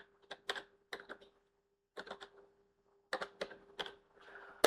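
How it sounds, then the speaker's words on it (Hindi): Someone types on a computer keyboard while creating a new Python file, producing quick clusters of sharp, close key clicks separated by short pauses, with a faint steady hum in the quiet gaps. "न्यू फाइल करके यहाँ पे मैं टाइप कर लेता हूँ"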